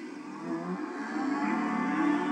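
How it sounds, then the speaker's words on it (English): A cow's moo from the THX Moo Can logo sounds as a single drawn-out, nasal low bellow that swells slightly and holds steady, clear and alone. "Oh no, that's a mooing cow."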